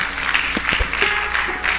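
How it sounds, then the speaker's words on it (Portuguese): Applause fills a church service, steady clapping from a congregation carrying through the whole moment, with a few low thumps and tonal sounds mixed in underneath. "Aplaude mais forte, que é para Jesus."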